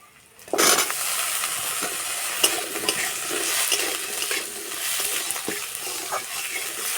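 Steady, loud sizzling of chopped onion and garlic frying in hot oil, with occasional stirring clinks throughout.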